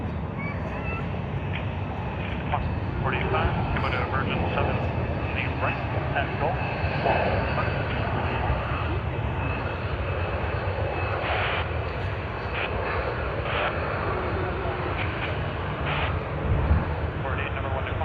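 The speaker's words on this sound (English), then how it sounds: "TR11 Sydney to Singapore on Scoot's Pokemon livery" A Scoot airliner on flight TR11, Sydney to Singapore, in Pokemon livery, passes at Sydney Airport with a loud, steady jet roar that holds for the whole stretch, while voices murmur faintly underneath.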